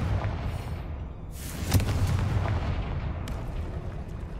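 A Confringo fire spell explodes in the game Hogwarts Legacy, a loud boom swelling over a steady low rumble and then trailing off into a sustained roar.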